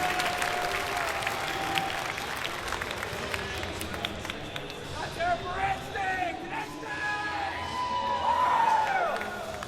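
A crowd of fans cheers and claps at a Halo esports championship match in Columbus, a broad wash of applause and whoops behind a commentator's voice, with a few shrill shouts rising toward the end.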